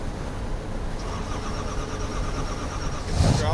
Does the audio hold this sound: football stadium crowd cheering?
no